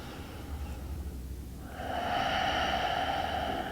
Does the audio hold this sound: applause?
no